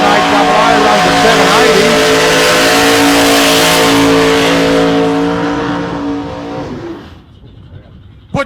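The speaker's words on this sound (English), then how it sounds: "Peter Rains, big burnout" A nostalgia drag racing car roars through a long, loud burnout at a drag strip, a sustained harsh engine drone with tire squeal that cuts off sharply near the end.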